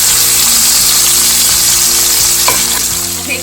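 Pork chops searing in butter in a pan, a loud continuous sizzle and crackle with a faint clink near the end.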